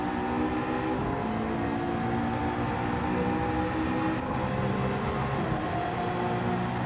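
Race car engine droning steadily through a lap of Spa in Gran Turismo 7, a continuous loud hum with shifting pitch as the car accelerates and shifts, no voices.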